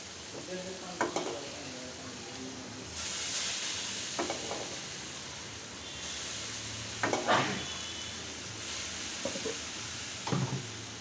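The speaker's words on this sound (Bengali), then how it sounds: "এখন পানিতে দিয়ে দিব ধনের পানি" Coriander water poured into a hot pan of fish with vegetables, hissing into a steady sizzle, with a few spoon stirs scraping the pan alone and close.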